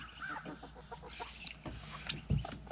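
Chickens cluck and murmur close by around a rural cabin, a busy, irregular patter of short calls with one louder squawk near the end, without talk.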